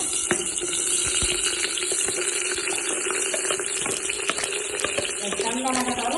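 Onions frying in oil in a home kitchen, giving a continuous close sizzle with occasional stirring scrapes and faint background noise.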